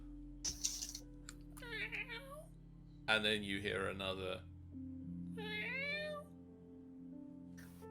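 Two drawn-out meows rise and fall, separated by stretches of people talking; the meows are a person imitating a cat during a tabletop role-playing game session.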